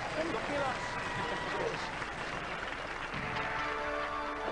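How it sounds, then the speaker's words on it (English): An audience applauds a robot combat team at a Robot Wars event, a steady wash of crowd clapping with a voice talking over it. "Ladies and gentlemen, give them a round of applause."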